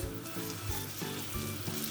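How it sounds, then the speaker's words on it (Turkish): Bread soaked in egg fries in a pan on its second side, giving a close, steady crackling sizzle with soft bubbling pops and no talk. "Öbür tarafını da kızartıyoruz."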